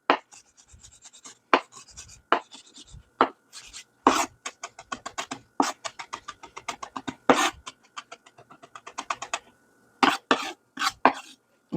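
A knife chops fresh parsley for a garnish on a cutting board, a long run of quick, close, crisp knocks in uneven bursts with short pauses between them.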